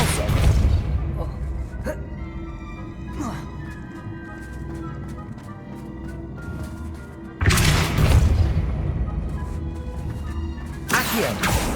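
Loud, booming spell blasts from the Depulso spell in Hogwarts Legacy, with two heavy bursts at about 0 and 7.5 seconds and another near the end, over a constant rumbling game soundtrack.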